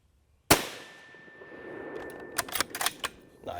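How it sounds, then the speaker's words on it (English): A single loud, sharp rifle crack at shooting practice rings out and decays, then a quick series of close mechanical clicks and rattles follows. "you'll just ease on that trigger and break the shot clean"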